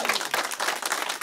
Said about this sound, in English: No, you can applaud that.